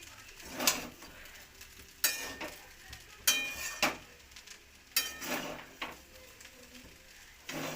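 Chicken pasta with coriander leaves is stirred in a metal pan, with distinct spoon clanks and scrapes arriving in irregular bursts over a faint low sizzle, close and fairly loud, with no voices.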